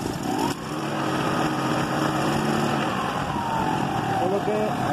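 A motor scooter engine runs after a carburetor adjustment, a steady loud buzzing drone through the whole clip, with someone talking over it.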